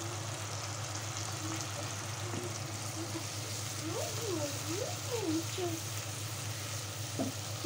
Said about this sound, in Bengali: শুটকি একটু ভেজে দিতে ভালো লাগবে